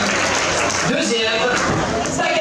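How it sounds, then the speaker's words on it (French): Crowd applause at a sailing regatta prize-giving in Geneva, loud continuous clapping mixed with overlapping voices and a public-address voice over the top. "Merci d'applaudir Takata, Pierre Yutsi"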